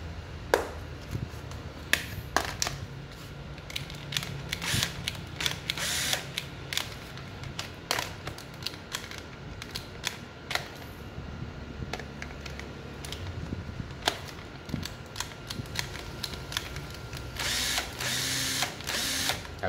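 A used Japanese 9.6V cordless drill with a 10 mm chuck, heard as a series of short clicking bursts and brief motor whirs from the trigger and mechanism, close by, irregular over about twenty seconds, with no speech.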